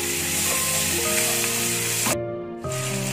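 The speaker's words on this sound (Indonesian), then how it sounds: "kita masukkan bawang bombaynya, masukkan dulu bawang bombaynya, kita aduk sampai bau harumnya keluar ya" Chopped onions sizzle loudly in a pan with oil while being stirred for butter chicken curry, a dense continuous frying hiss that briefly cuts out near the end before resuming, with a tonal hum underneath.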